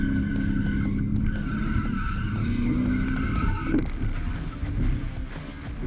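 A '99 Subaru Forester drifting at a racetrack event: engine roar with squealing, skidding tires, steady and fairly close, the squeal fading out partway through.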